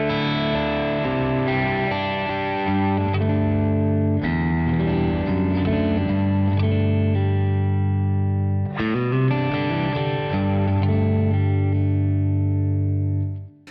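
Clean electric guitar played through a Two Notes Laney 4x12 cabinet simulation, sustained ringing chords with a few changes, loud and steady throughout, ending as the last chord cuts off.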